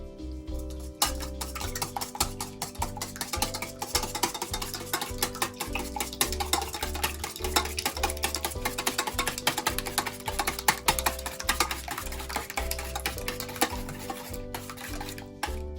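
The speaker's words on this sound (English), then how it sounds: "Alright, then we're gonna whisk it." A mixture being whisked in a bowl, rapid rhythmic clicking and scraping strokes close by, continuous with slight pauses, no talking.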